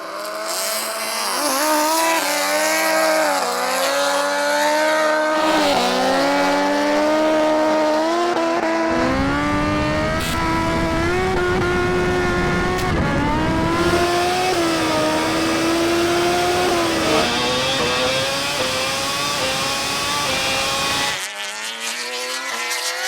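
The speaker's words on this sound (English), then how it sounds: "Just did a big wheel spin." A TTS SuperBusa motorcycle and a KTM MotoGP bike at a drag race start, engines revving hard and sustained at high pitch, with a wheel spin and rising, falling engine notes carrying loud and continuous throughout.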